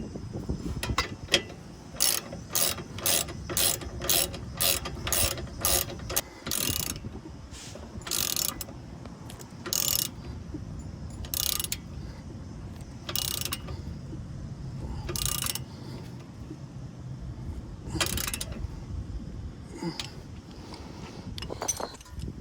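Ratchet wrench tightening a tie rod nut during a tie rod replacement, bursts of rapid close clicking repeated in steady strokes with pauses and metallic clanks between, no talking.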